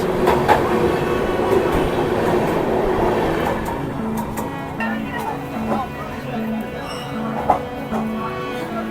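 A train interior rumbles with clattering wheels as the Shatabdi Express passes on the adjacent track. A brief louder rush gives way to steadier rolling rhythm, with occasional clicks and a voice under the noise.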